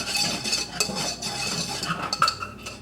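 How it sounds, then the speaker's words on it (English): A whisk scrapes and clinks against a pan as flour is stirred into the fat for a roux, a steady close-up metallic rattle with sharper clinks near the end. "You're gonna have to whisk it around."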